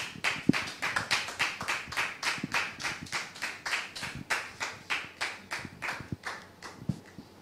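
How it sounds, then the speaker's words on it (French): Studio audience applause on a French-language talk show, steady clapping from a crowd that holds through the whole stretch at an even level, close and lively, with no voices. "Public, merci de le recevoir sous vos applaudissements"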